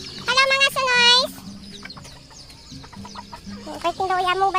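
Farm chickens cluck and cackle close by in two loud harmonic bursts at the start and near the end, with softer clucks and scratching in between.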